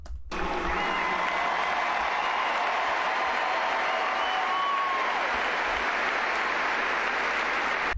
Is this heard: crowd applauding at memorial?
yes